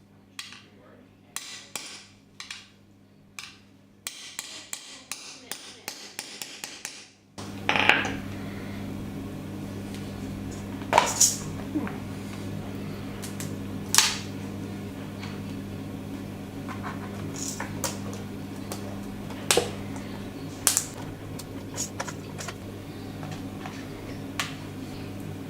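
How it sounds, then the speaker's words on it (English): Grommets being punched through a swimming pool sign with a hammer, giving a string of sharp metallic taps, first rapid and close, then sparser hard strikes with faint clinks between them. "So I'm going to try putting these grommets in just to make it stronger for the cable ties to go through when I tie it up."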